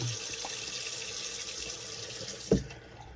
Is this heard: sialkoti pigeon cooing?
no